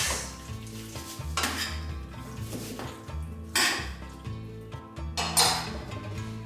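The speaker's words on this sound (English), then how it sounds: "Give it a little mix in the pan. Make sure everything's coated." Sticky, sweet and spicy chicken thighs are stirred in a pan, with close scraping, clinking utensil strokes and a light sizzle coming in bursts over a steady low background.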